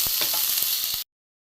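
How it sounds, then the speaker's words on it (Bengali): Onion frying in oil with a pinch of salt, a close, bright sizzle with a few light stirring scrapes, running steadily for about a second before cutting off abruptly. "পেঁয়াজটা একটু ভাজা ভাজা হবে।"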